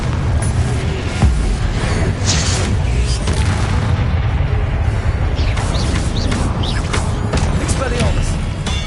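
Repeated fiery Confringo blasts go off in Hogwarts Legacy amid combat, with heavy booming impacts over a dense, continuous rumble of battle noise, and someone talking underneath.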